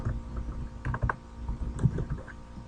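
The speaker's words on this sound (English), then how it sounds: "press Enter on the keyboard, and then I can type in thinnest layer" Fingers type on a computer keyboard during a software tutorial, a close, uneven patter of key clicks with no talk.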